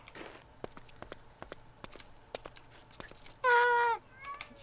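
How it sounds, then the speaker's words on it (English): A cat meows once, loud and drawn out, as it attacks the player in a Minecraft-style game, among soft repeated clicking steps and taps. "Now the cat's attacking me."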